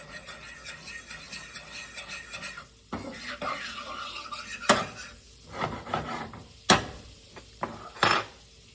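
A fork stirs cooked noodles in a pan, scraping and clinking against the metal in an uneven rhythm, with a few sharper taps toward the end, close by and moderately loud with no talking.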